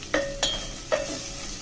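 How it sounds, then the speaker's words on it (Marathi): Chilli powder, coriander-cumin powder and garam masala frying in oil with a steady low sizzle, broken by three sharp metallic clinks of a spoon against the pan. "1 चमचा लाल मिरची पावडर, धना जिरा पावडर आणि हा गरम मसाला घालून घेऊया तेलात चांगले."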